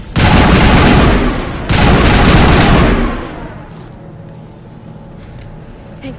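Assault rifle fire in a video game comes as two loud sustained bursts, each rattling for over a second, fading into quieter background noise.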